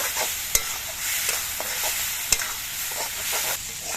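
Spice paste with onion frying in a pan for a ridge gourd and prawn dish, with a quiet continuous sizzle and a few sharp scrapes of a spatula stirring.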